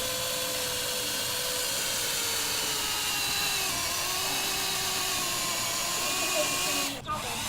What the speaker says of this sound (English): Red drill bit, drill up to the mark.